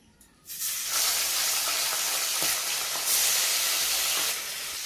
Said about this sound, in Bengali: বন্ধুরা কি সুন্দর করে কিন্তু লাল লাল করে ভেজে নিচ্ছি মাছটাকে